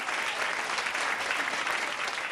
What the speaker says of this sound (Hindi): ताली मत बजाओ